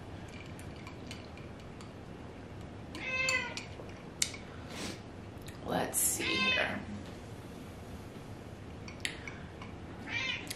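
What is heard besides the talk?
cat meowing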